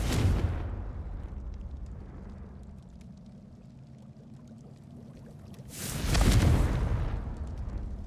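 Confringo explosion spell cast in the Hogwarts Legacy video game: a loud fiery burst that fades into a low rumbling hum, then a second big whooshing blast erupts near the end, with no talk.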